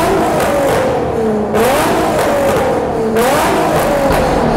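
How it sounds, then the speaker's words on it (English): A Nissan 350Z revving in a tunnel, the engine rising and falling loudly in two surges with a reverberant exhaust roar close to the microphone. "Did you hear the crackles?"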